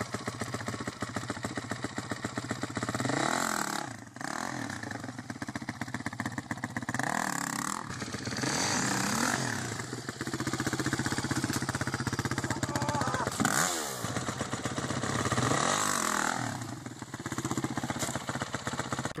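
A motorcycle engine runs close by with a rough, throbbing mid-pitched rumble, swelling and easing in repeated revs across twenty seconds.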